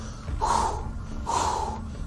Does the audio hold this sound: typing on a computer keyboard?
no